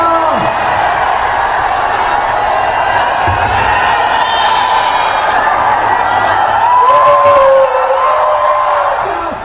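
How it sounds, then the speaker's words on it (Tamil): Fans in Kerala cheer and whoop for actor Suriya at a film promotion, a loud dense crowd roar that holds throughout with individual shouts rising above it. "கங்குவா பட ப்ரமோஷனுக்காக கேரளா சென்ற நடிகர் சூர்யாவை கண்டு ரசிகர்கள் ஆரவாரம்"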